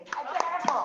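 Children clapping in an open classroom at an orphanage school, a brief patter of a few uneven hand claps close by, with speech overlapping.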